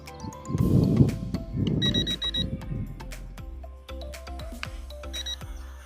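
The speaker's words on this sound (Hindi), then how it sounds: "अगर ये बीप की आवाज़ आ रही है तो इसमें ये फ्लिप भी नहीं कर सकता" A budget M3 Max camera drone sounding its low-battery warning: repeated short, shrill electronic beeps in small clusters, heard up close over faint handling noise and a low rumble.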